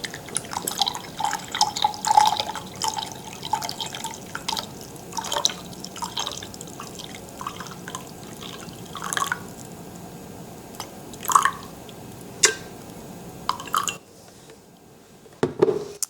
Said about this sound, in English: Now we're gonna pour the hot water, 6 ounces, into the glass.